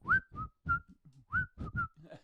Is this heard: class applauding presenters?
no